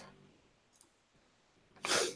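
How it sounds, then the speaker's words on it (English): A single sneeze bursts out at the end after near silence, close and sharp, with a faint click just before. "Still sneezing here."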